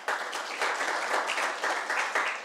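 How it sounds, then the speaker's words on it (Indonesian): A congregation claps for God during an online youth church service, a dense steady wash of applause with rhythmic swells, fairly close and continuous with no voices over it. "Yang setuju tepuk tangan buat Tuhan kita"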